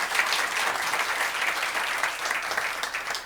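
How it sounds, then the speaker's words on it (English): Steady applause from an audience gathered for an annual holiday candle lighting service, dense and continuous from start to finish with no voices breaking through. "give her a big round of applause"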